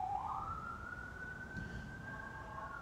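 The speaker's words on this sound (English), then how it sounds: "there's a siren in the background" A siren wails on a Washington, D.C. street, rising and holding a long steady tone, distant behind traffic hum, alone with no talk.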